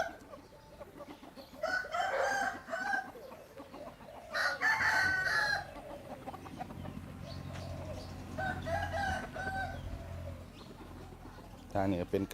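Hens cluck around the recorder while a rooster crows in loud bursts several times, with faint voices and farmyard noise underneath.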